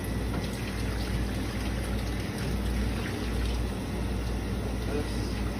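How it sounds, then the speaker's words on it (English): Tap water runs in a lab sink to rinse the wells of a PAGE gel apparatus, a steady, even rushing hiss throughout. "And just rinse the wells with tap water."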